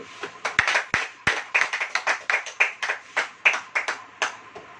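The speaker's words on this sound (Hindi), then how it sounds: "ताली बजाइए।" A church congregation claps during a Hindi sermon, roughly rhythmic group clapping with a few sharp individual claps standing out, fairly close and without talk.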